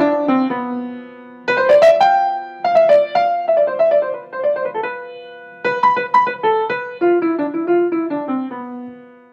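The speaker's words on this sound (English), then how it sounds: "Locrian is one of the most difficult scales to sort of interpret" A keyboard or piano plays a melodic passage in the Locrian mode, clear sustained notes struck alone and in small clusters in a halting phrase, close and moderately loud with no voice.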